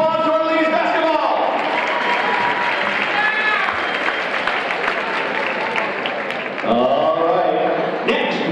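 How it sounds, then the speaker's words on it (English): Sustained, loud applause from a school homecoming assembly audience for the Hayes Indians ladies basketball team, dense clapping and crowd noise filling the room, with shouting and voices carrying over it throughout. "Let's give a big round of applause to our ladies basketball!"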